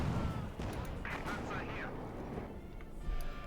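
Twin 6-pounder anti-tank guns in a Company of Heroes 2 battle, shelling a Sturmgeschütz. Repeated booming gunfire and distant blasts roll under constant battlefield rumble, with a commentator talking over them.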